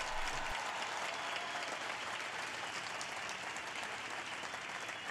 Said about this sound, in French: faisons-le avec de grands applaudissements